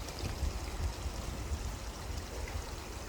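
Water spills down a home-built garden waterfall beside a fish pond, a steady rushing babble close by with low burbling pulses.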